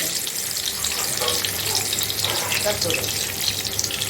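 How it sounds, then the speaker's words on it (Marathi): Bombay duck fish dropped into a pan to fry, giving a steady, close hissing sizzle with crackly bursts throughout. "आणि आता तळायला टाकले"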